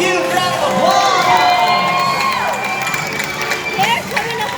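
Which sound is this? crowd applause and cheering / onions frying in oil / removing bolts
crowd applause and cheering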